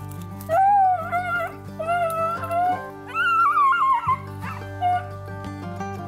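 Hunting dogs on a Kentucky rabbit hunt yip, whine and bark in long, eager, pitch-sliding cries, close and loud, overlapping one another with little pause.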